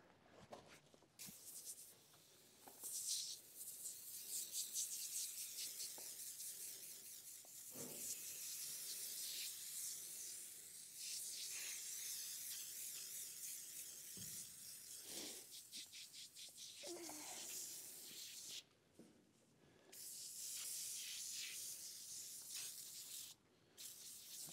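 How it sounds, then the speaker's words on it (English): Long, steady hissing spray of foaming cleaner from a bottle, near and loud, broken by a few short pauses and small clicks. "we're going to spray this thing on here."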